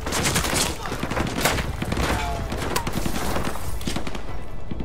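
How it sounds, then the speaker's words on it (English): Heavy gunfire in Call of Duty Modern Warfare 2 Remastered rattles on without pause, dense overlapping bursts and sharp cracks filling the whole stretch at high volume. "We're taking heavy fire from the school."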